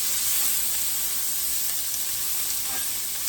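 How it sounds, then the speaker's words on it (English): Canned mushrooms sautéing in a pan, a soft even hiss and sizzle held steady and fairly close, with no distinct stirring. "I'm just going to saute these until the mushrooms start to wilt down some or cooked part way."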